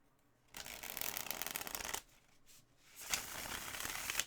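A deck of cards being shuffled, two rapid riffling bursts of crisp, papery fluttering separated by a short pause, close and fairly loud with no talking.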